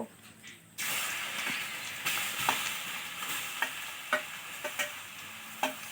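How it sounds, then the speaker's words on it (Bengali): Wood apple pulp drops into a hot wok and sizzles as pickle is made without water, with repeated scraping and stirring knocks over the steady frying hiss. "সেই বেলটা আমি এখন কড়াইয়ের মধ্যে দিয়ে দেব"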